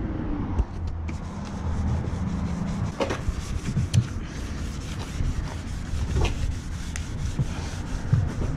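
A very dirty car, one that even had snails living on it, gets its cracks and crevices scrubbed, making steady close-up rubbing and brushing that runs unbroken and moderately loud throughout.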